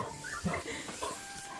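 Dogs bark and whimper in a few short, uneven bursts, fairly close, over a faint background hum.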